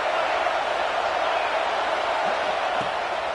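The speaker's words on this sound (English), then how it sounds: "Decibels rising as the crowd gets behind this defense on 3rd down." A stadium crowd at a football game roars in a steady, dense wash of noise on third down, loud and continuous throughout with no pauses.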